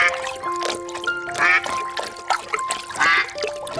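Cartoon ducks quack in quick bursts over a busy animated soundtrack with steady tones, moderately loud and close, with no talking.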